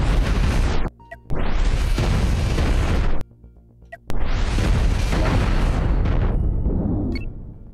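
A starship blowing apart in the space game Cosmoteer: two long, loud roaring blasts, each decaying over a couple of seconds, split by a short quiet gap and followed by a third rumbling blast that fades out.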